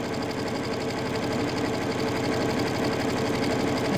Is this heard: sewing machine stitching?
yes